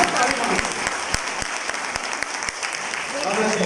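Short burst of audience clapping at a Hindi poetry gathering, a brisk, moderately loud patter of many hands from a seated crowd, heard alone without talk.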